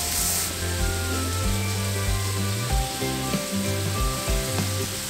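Shrimp with green onions sizzling on a discada cooking disc, a loud steady frying hiss over a rhythmic low humming pulse from the burner, heard close and without any talk.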